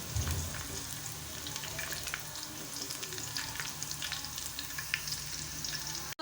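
Onions sizzle and crackle in hot oil for beef nihari, a steady close frying hiss with scattered pops and a brief scrape of stirring near the end.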